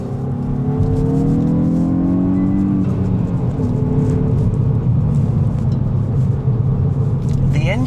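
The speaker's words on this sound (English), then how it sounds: "The engine is relatively muted, to be honest, in sort of feel and sound when you run through it" Hyundai i20 N hot hatch engine pulling hard on a track, a rising then settling muted rumble with gear-change dips, under continuous nearby wind and road noise.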